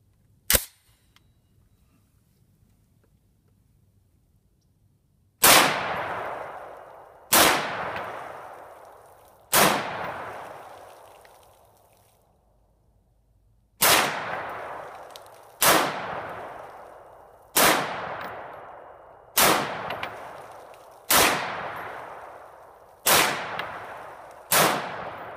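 Bushmaster M17S bullpup rifle with K&M Aerospace modifications fired outdoors: one opening shot, then eleven loud, sharp reports at a steady, unhurried pace, each with a long decaying echo, and no talking.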